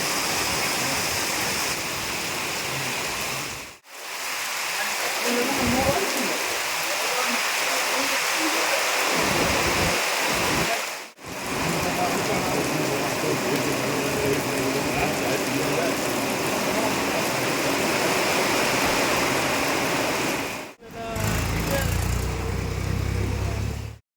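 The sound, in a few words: heavy rain pouring down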